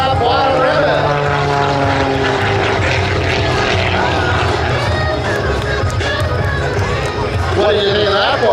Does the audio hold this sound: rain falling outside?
no